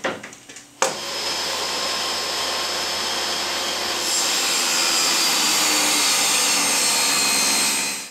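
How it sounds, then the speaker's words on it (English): A table saw rips wooden boards down to two-inch strips for bookcase legs: a brief clatter, then the motor spins up into a loud, sustained whine and cutting roar that holds steady for several seconds before easing off at the end. "set up my table saw to rip the boards down to 2 inches in width"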